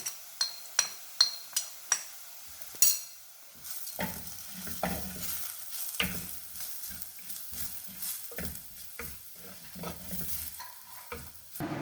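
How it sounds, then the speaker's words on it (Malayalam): Chili powder, fennel, pepper and turmeric stirred in a pan for a prawn roast, with quiet sizzling and repeated scraping strokes of a spoon, sharp clinks early on and then softer irregular stirring, no talk. "ഇതെല്ലാം കൂടെ ചേർത്തിട്ട് നമുക്ക് വഴറ്റി കൊടുക്കാം"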